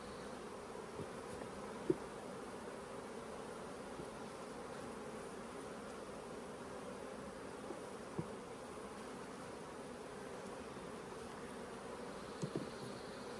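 Honeybees drone in a steady, close hum around an opened hive during a hive split, with a few faint knocks and clicks of equipment.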